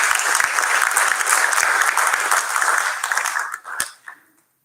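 A seated audience at a Bharatanatyam Arangetram dance debut claps in a dense, sustained burst of applause that thins out and fades to silence near the end.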